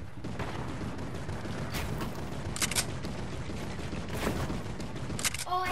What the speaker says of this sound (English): Somebody else is taking a shot at us.